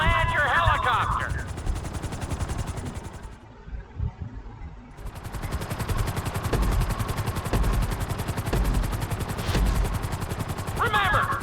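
Helicopter in GTA V flight school, a steady dense rotor chop running throughout with rapid gunfire-like beating, briefly dropping out near the middle before resuming loud, with voice snippets at the start and end.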